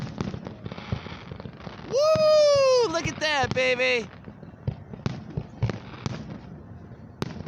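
Lakeside festival fireworks at Grand Lake St. Marys in Celina, Ohio: sharp booms and crackles pop repeatedly, joined by a loud whistling, screaming shell mid-way, with an excited spectator talking and cheering over it.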